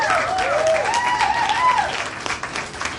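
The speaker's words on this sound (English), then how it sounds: "Can we get a round of applause for our host" An audience applauds a show host with steady, dense clapping, fairly loud and close, while a high whistling or cheering tone wavers above it during the first two seconds.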